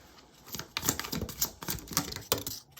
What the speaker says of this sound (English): We're going to shuffle these cards and actually get one to come out naturally